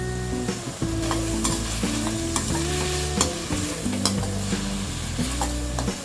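Finely chopped tomatoes with sea salt sizzle in a pan for Punjabi tadka Maggi while a spatula stirs them, making repeated scraping and clanking strokes over a steady frying hiss, with no voices.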